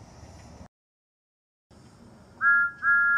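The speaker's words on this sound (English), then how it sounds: "whistled Thomas proudly" Toy wooden railway engine whistle, two short bright toots near the end following a pause, after a stretch of faint background sound.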